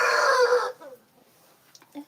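A rooster in a backyard flock in Uganda gives one loud, close crow that cuts off, followed by faint scattered clucks and small farmyard sounds.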